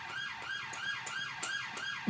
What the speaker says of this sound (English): Just turn your sirens off.